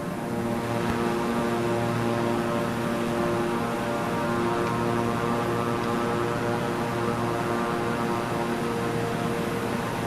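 A Beechcraft propeller aircraft in a flight simulator game drones with a steady, even engine hum and a layer of broadband noise throughout, with no voices over it.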